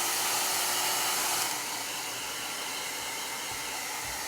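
A heat tool blows steadily at close range while drying shimmer chalk paste in a crafting session, a loud continuous whooshing hum that drops slightly in pitch partway through.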